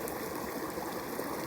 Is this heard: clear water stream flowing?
yes